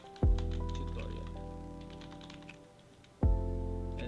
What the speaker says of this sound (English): you can type whatever name you want